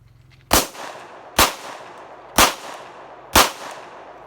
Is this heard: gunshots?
yes